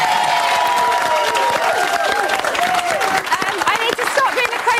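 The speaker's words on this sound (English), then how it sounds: "let's clap one more time for Luke" A television studio audience at a reality show spin-off applauds and cheers loudly and continuously, with dense clapping, shouts and whoops throughout.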